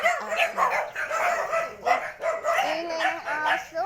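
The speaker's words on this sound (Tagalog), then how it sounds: "Ingay ng aso." Dogs in a rural provincial yard bark repeatedly in an irregular run of sharp barks and yips, fairly close and loud.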